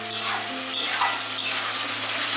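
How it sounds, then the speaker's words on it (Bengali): Mutton slow-frying with spices in a pan sizzles steadily up close, broken by bursts of scraping and stirring, with a low steady hum underneath. "আমার এখানে কষানো মাংসটা চলছে"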